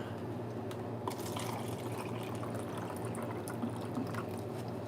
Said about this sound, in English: I'm going to pour me some water